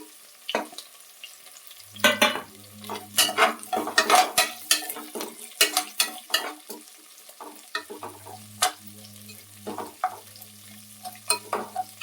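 Onions with curry leaves fry in a pan for rice upma, with a sizzle under bursts of spoon-scraping and clattering stirs that come in uneven clusters.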